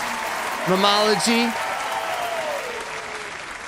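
A live audience at a comedy-style show claps and cheers loudly throughout, a steady wash of applause while someone speaks briefly over it near the start.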